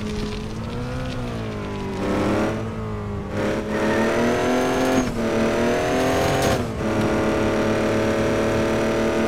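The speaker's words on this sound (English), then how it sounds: "If I can get this truck to move. It does struggle to pull trailers." A diesel truck engine in a video game labors to pull trailers, droning loud and close with rising and falling revs and harmonic pitch sweeps throughout, no voices over it.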